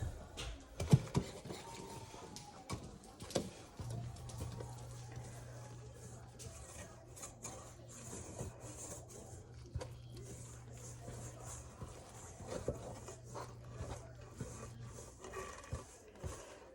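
Shaggy sourdough bread dough is mixed by hand, making soft intermittent rubbing and scraping noises over a steady low hum, with no clear talk.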